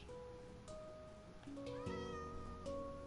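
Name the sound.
Cheshire cat meowing in a video game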